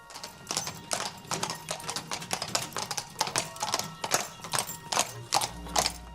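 Friesian horses moving on a hard surface, their hooves clip-clopping in a steady, fairly close rhythm of distinct knocks with no voices over them.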